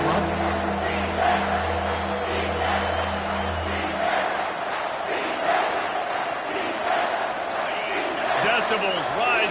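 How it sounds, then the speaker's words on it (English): A football stadium crowd roars loudly and steadily through a third-down defensive stand, a continuous wall of cheering with a low hum fading out partway, with a commentator talking over it. "Decibels rising as the crowd gets behind this defense on 3rd down."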